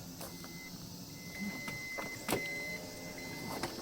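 Power sliding doors of a 2009 Toyota Vellfire ZG 3.5 minivan closing, a quiet steady electric motor whine with a few soft clicks and thuds, heard faintly and alone.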